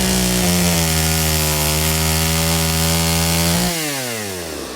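Horror-style chainsaw sound effect: a loud, steady motor drone that runs unbroken for several seconds, then slows and winds down near the end, with no voices.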